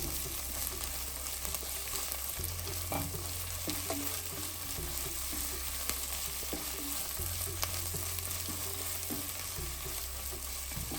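Green chilli, ginger and garlic sauté with onions in a pan over a low flame, giving a steady soft sizzle broken by repeated scrapes and clinks of a stirring spoon, with no voices.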